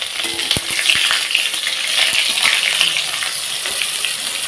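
Chopped whole tomato tossed into a hot pan already spiced with cinnamon, a loud steady sizzle of frying with sharp crackles and clinks from stirring, close up and without talk, for a vegetarian potato-cauliflower dish.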